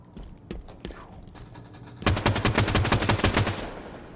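Rapid automatic gunfire in a Halo Forge map, a loud burst of evenly spaced shots lasting about a second and a half after a few softer pops, with quiet speech before it.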